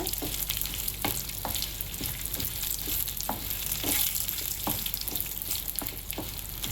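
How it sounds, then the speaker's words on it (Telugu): Dried red chillies fry in oil in a pan with a steady, dense sizzle, close and fairly loud. Occasional stirring scrapes and crackles cut through it, and no one speaks. "ఇవి మాడకుండా మంచిగా మనం వీటిని ఫ్రై చేసుకోవాలి"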